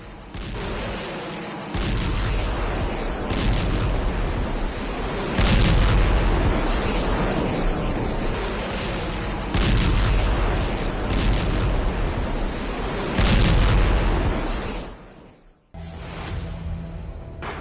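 Heavy, continuous rumbling blasts of phosphorus bomb explosions over Gaza, repeated booms rolling over each other at high volume, fading briefly near the end before resuming.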